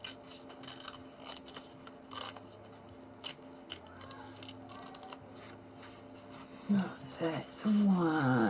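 Scissors trimming the corner of a paper page for a junk journal, a series of close, crisp snips and cutting rasps, with quiet talking in the background.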